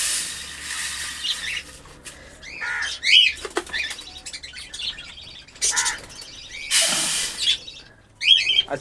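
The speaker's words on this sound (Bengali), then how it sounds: "পাখিগুলোকে আজকের খাবার দেওয়া হচ্ছে। এরা সব নেমে আসবে খাবার খাওয়ার জন্যে।" Pet birds come down to be fed, with repeated bursts of flapping wings mixed with sharp squawks and high chirps, close and fairly loud, with short quiet gaps between flurries.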